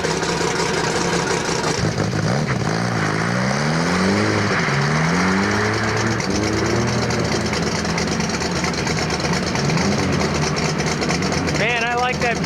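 Volvo P1800 engine at an ice race, revving up and down in rising and falling sweeps with a steady idle underneath, close and loud, with some voices mixed in.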